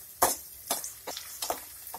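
Tinda and onions fry in a pan over a medium flame while a spoon stirs them, giving a soft sizzle broken by several distinct scraping strokes about half a second apart.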